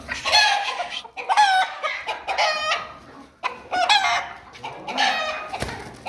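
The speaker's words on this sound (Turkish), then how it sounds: "Yine Osmanlı Sultan tavuklarımız." Ottoman Sultan chickens cluck and squawk in repeated bursts close by, with loud agitated calls and brief pauses between them.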